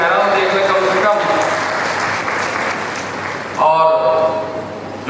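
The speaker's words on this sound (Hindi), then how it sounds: "उनके लिए भी जोरदार ताली बजाइए" An audience at an academy alumni event applauds loudly, with sustained dense clapping throughout and a fresh surge near the end, while a voice speaks over it.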